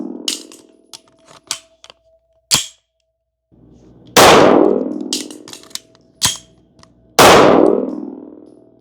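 Rifle fitted with a Strike Industries SMC Alpha MKII being reloaded: a run of sharp metallic clicks and clangs, with two loud, ringing slaps of the magazine and action, close and alone with no talk.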